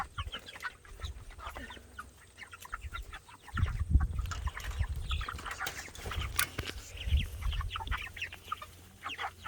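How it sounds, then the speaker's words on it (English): Hungry Cornish chickens cluck and squawk in a farmyard flock, a busy overlapping chatter with louder bursts midway, plus rustling and faint wing flaps, near and with no talk. "Happy birdies, they're all hungry."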